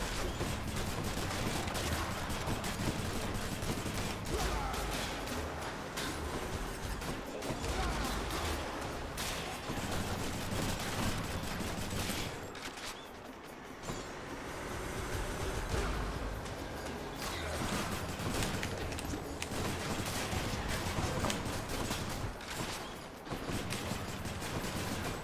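Homing shots firing in the action game Hades, a dense, rapid stream of crackling bursts and mechanical clatter that goes on nearly nonstop at moderate loudness, with a short dip partway through.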